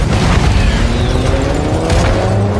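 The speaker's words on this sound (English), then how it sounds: "The base bursts into flames, destroying Lendina's shipments, her fortune, and her chemicals in a single explosion." A base bursts into flames in a single loud explosion, a deep booming roar close by that holds and rumbles across the whole moment with crackling debris on top.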